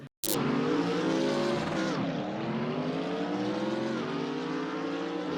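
Race cars roaring around the Spa-Francorchamps circuit, a continuous loud engine drone with shifting pitch as cars pass and accelerate, no voices.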